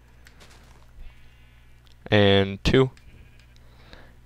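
Two loud sheep bleats from Minecraft-style video game sheep, a long wavering call followed quickly by a shorter one, close up, with a voice speaking briefly before them.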